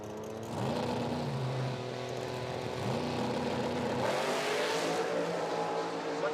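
A drag racing car at a street nationals event on a motorsports park strip revs its engine with repeated rising sweeps, building boost in a loud, sustained mechanical roar heard from a moderate distance across the track.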